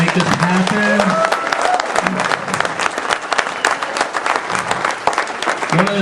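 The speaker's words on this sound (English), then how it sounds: "How about a round of applause for all these people that make this happen?" Audience gives a round of applause at a derby captains' gathering, loud, close clapping with a few whoops and scattered voices mixed in throughout.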